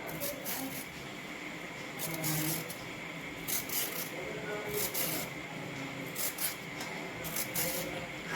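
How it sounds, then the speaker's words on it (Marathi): Carrots being peeled for gajar halwa, repeated short scraping strokes in quick bursts, close and fairly soft, recurring steadily with faint background noise and occasional speech mixed in. "त्यानंतर गाजर आपल्याला सोलून घ्यायचं आहे वरचा साल।"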